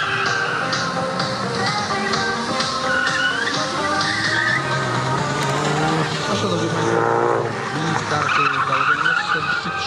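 Ford Focus RS rally car, crew number 42, at a Super OES special stage in Nowy Sącz, its engine revving loud and near with sweeping pitch changes as tires skid, alongside a commentator's voice.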